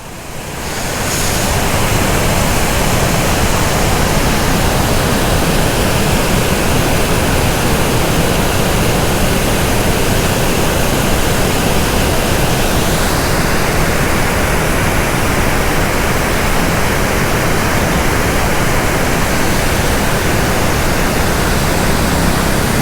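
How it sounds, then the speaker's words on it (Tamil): Water rushing through the open gates of Kallanai dam on the Kaveri, a loud, steady broadband roar that fills the whole stretch without pause, with no voices over it. "டேம், தண்ணி திறந்துருக்காங்க, காவேரி"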